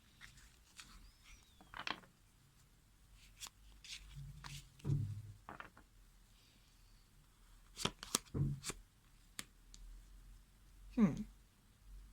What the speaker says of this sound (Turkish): bir kart daha seçeceğim